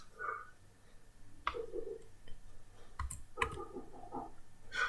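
A computer mouse clicks a few times at irregular intervals while working in Microsoft Word, sharp and close over a faint background hum.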